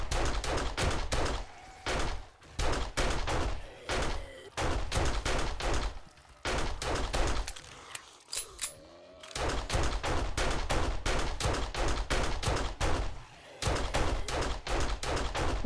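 Rapid 9mm gunfire in the video game 7 Days to Die, fired in repeated bursts of quick close shots separated by short pauses and a brief reload-like gap, with no voices.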